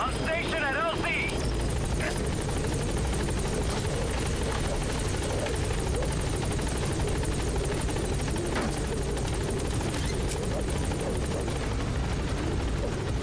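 The Pequod helicopter from a video game arrives at a landing zone, its rotor drone loud and continuous, with brief game sounds at the start.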